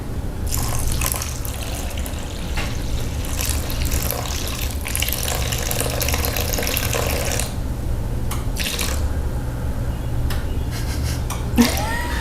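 Yeast water poured into a bowl of sourdough mix for mini loaves, a steady close trickling stream running for several seconds before tapering off, with a brief clink near the end.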